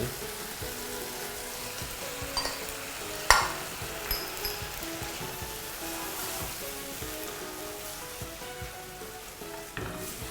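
Beef stir-frying with sesame oil and three-colour bell peppers sizzles continuously in a pan, with occasional sharper clinks and scrapes of stirring over the steady frying hiss.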